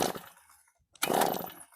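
A Harbor Freight Predator engine on an ice auger is pull-started with the choke set, giving two short loud ratcheting bursts of the recoil starter separated by a brief pause, with no engine catching.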